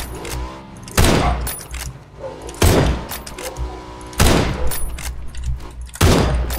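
PUBG gunfire: four loud, sharp shots spaced about a second or more apart, each with a short booming tail over a low background rumble.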